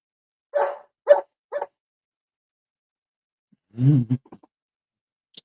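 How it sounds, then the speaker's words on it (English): A dog barks three short times close by, then after a pause gives a lower, longer bark and a couple of small yips, with silence between. "Yeah, my dog."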